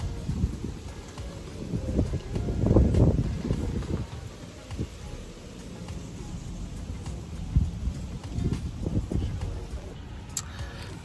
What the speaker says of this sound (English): the wind is like blowing so much over here